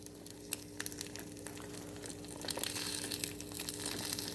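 An egg frying in a pan crackles and spits softly, a faint irregular patter of pops that grows denser and steadier toward the end, with no talking.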